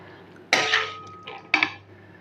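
Utensils clatter against cookware while serving lau muri ghonto, a bottle gourd curry cooked with fish head, giving three close, sharp metallic clinks with brief gaps between them.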